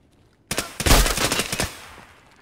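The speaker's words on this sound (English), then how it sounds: "Ooh, another bullet hole in my visor." Rapid video game gunfire with bullets striking a helmet visor, a loud burst of shots and sharp impacts that starts abruptly and fades into a short tail.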